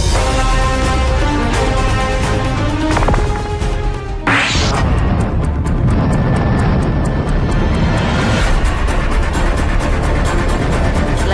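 An airplane landing, with a loud, sustained broadband roar and engine whine, a sharp impact-like break near the middle, then continued rumbling noise; no talk.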